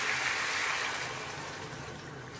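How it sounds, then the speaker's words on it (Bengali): Broth poured into chicken curry cooking in a pan, a steady, close, noisy wash of liquid pouring and bubbling that runs alone throughout and eases slightly toward the end. "এখন এই যে ঝোল দিয়ে দিলাম।"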